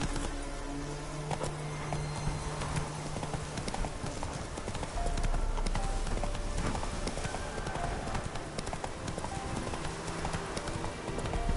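Hooves of Roach, a horse in a video game, clip-clop steadily at a walk and then a quicker pace, with game music and ambience underneath and a voice talking to the horse at times.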